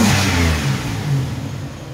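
A 2006 Pontiac Grand Prix engine revs up and settles, a loud nearby surge of rising and falling engine tone over about two seconds, with no talking.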